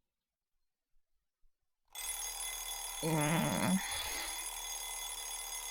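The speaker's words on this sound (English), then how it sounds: "groped around for the clock and turned off the loud alarm." A loud alarm clock rings, a steady bright electronic tone starting abruptly after a quiet moment, growing louder midway and continuing to the end.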